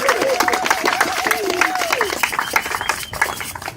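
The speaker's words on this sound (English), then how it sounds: "we should just give a round of applause to all the people who put in tireless hours organizing this event" A crowd at a street march in Albany, NY claps steadily, with scattered whistles rising above the dense, continuous applause and a murmur of voices throughout.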